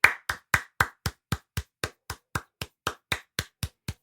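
Sixteen sharp hand claps at a steady, even beat over about four seconds, close and distinct with brief silence between each; no talking.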